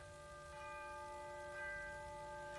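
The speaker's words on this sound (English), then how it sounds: "Chiming midnight." A clock chimes midnight with soft, sustained bell-like tones that ring on steadily and evenly, heard quietly and at a distance.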